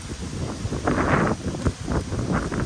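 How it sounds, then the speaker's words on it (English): Gusty wind buffets the microphone in rough, rushing surges at an Australian beehive, loud and close, rising and falling over a few seconds. "Hear the wind picking up."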